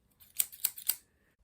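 Scissors snip paper while cutting out paper hearts for a garland: three crisp, close cuts in quick even succession, then quiet.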